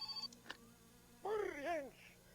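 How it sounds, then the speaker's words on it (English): A phone ringing inside the video game My Summer Car, a short warbling electronic ring tone sounding once after a few faint blips, fairly close and alone without talk. "Oh, I got another phone call."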